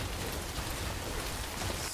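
Steady rain falls in the video game Death Stranding, a dense, even hiss of drops on surfaces holding at a constant level throughout with no voices.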